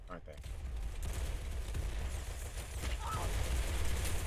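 Automatic gunfire in the Roblox game Arsenal, a steady rapid rattle of shots running through the whole stretch at moderate loudness, with a brief sharper burst near the start.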